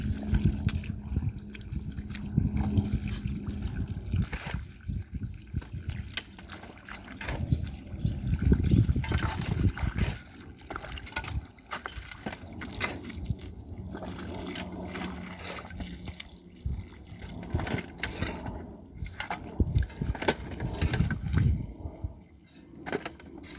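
Water trickles and pours into soil backfill around a building foundation during a settling test, a steady liquid wash with splashy surges and a low hum under it, close by.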